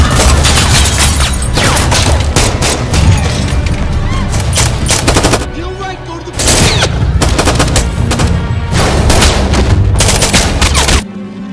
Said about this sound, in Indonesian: Kontak senjata pun pecah di tengah keramaian pasar.